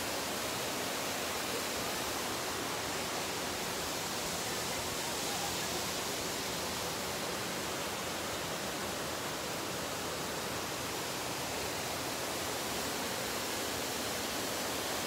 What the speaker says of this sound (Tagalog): Second waterfalls guys.